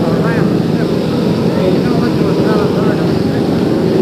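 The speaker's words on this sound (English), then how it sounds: "An Army helicopter has just landed. It's making a great deal of noise." A loud, steady roar and rotor drone from an Army helicopter that has just landed at a 1963 presidential arrival in Washington, close and continuous, with no pauses.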